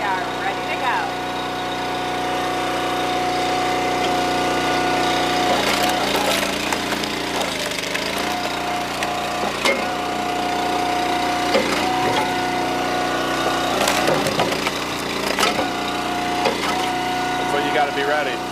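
A warmed-up 1222 log splitter engine runs steadily and loud throughout, with sharp cracking and splintering bursts as wood splits under the wedge, over a constant mid-pitched engine drone.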